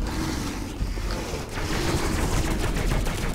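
Rapid bursts of automatic gunfire fill a video game battle in Space Hulk: Deathwing, loud and continuous with dense overlapping shots and a dull mechanical rumble beneath, no voices over it.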